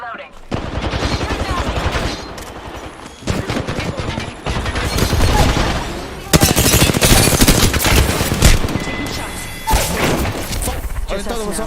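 Bursts of rapid gunfire in a video game, loud and repeated with short pauses between volleys and occasional heavy thumps, with voices talking over the shooting.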